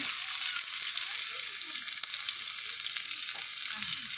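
Continuous crackling sizzle of about a cup of chopped onions frying in oil, close and even, with faint occasional stirring and no voices.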